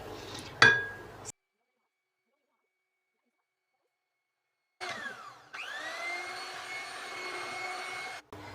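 An electric mixer whips cream with milk and sugar, cutting out for a few seconds of silence, then restarting as a steady whirring whine with a sharp clink at the start.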